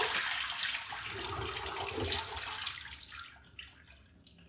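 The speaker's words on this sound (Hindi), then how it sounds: "अब ये मैं पानी निकाल दूंगी" Water drained from washed rice pours and splashes steadily from a container into a sink, tapering to a trickle near the end.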